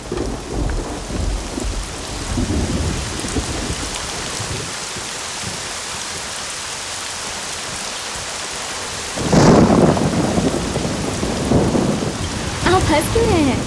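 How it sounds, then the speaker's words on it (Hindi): Heavy rain pours down steadily with rolling thunder, the downpour swelling louder toward the end with crackling rumbles close by; no one speaks. "लेकिन बारिश आ गई"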